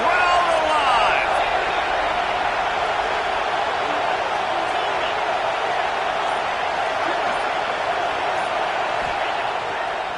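A college football stadium crowd during an SEC game, roaring steadily through a third-down red-zone play. The dense, continuous wall of cheering stays loud and even for the whole stretch, without distinct voices.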